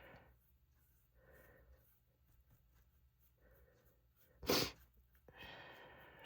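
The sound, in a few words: sneezing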